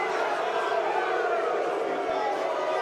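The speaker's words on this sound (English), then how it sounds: "You can hear the booing outside to where everybody's tailgating at" A football crowd at a Massillon Tigers versus Gateway Gators game boos a hit from the stands, a continuous, loud wash of many voices with no break.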